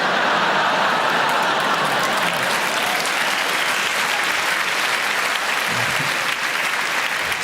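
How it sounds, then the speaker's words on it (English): A large comedy audience at Live at the Apollo breaks into loud, sustained applause, dense and unbroken clapping that fills the hall for several seconds. "the younger people laughing and clapping"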